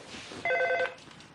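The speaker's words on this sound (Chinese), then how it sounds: "电话来了" A telephone rings with a short, bright electronic trill, a single quick burst at moderate loudness over faint room noise.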